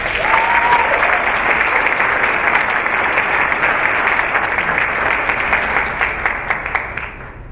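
A school district audience gives warm, steady applause at a State of the District address, loud and continuous before thinning out to scattered claps at the end.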